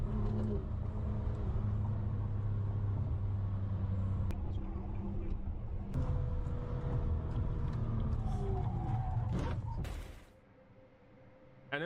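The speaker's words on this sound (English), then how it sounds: "Now we have an M2 and an Audi driving in packed traffic" A BMW M2 and an Audi drive through packed traffic, giving a continuous droning engine and road noise with a steady low tone that fades away sharply near the end.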